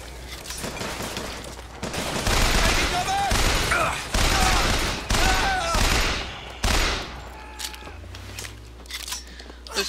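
Turret gunfire from the video game Bioshock Infinite rattles out in rapid, dense bursts with sharp mechanical clatter, loud and sustained for several seconds before cutting off, while someone speaks briefly over it.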